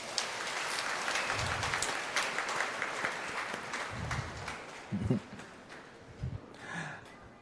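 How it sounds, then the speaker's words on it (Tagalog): A church congregation at a homily applauds, a broad wash of clapping from many people that rises and falls over several seconds, with a few breaths and murmurs. "Pumalakpak ng malakas."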